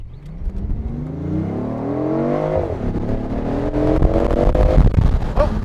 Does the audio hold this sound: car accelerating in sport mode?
yes